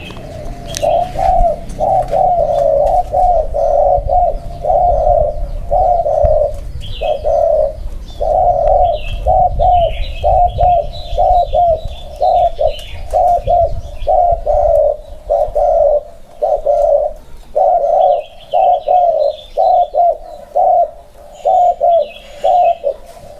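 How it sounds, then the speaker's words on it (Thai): A dove coos in repeated short phrases, steady and rhythmic, with occasional faint chirps from other birds in the background. "มันเป็นนก คูก้อมครับ"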